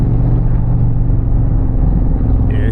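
An Indian Challenger motorcycle's exhaust rumbles deep and steady at close range, a continuous throaty idle-to-cruise drone with no voices over it.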